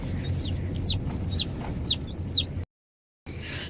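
A hen clucks repeatedly in short rising calls over a low background hum, then the sound cuts out briefly before faint ambience returns.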